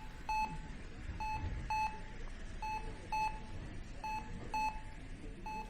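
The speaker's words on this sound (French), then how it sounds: "Seuls les bips des machines se font entendre dans le couloir." Hospital machines in a palliative care corridor emit short, clear electronic beeps, singly and in pairs at irregular intervals, over a quiet low background hum.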